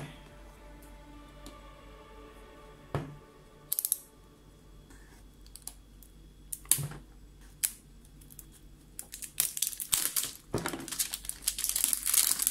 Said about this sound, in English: let's unbox this amazing gadget, GoPro Hero 8 Black